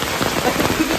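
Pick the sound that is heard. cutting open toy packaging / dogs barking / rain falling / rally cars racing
rain falling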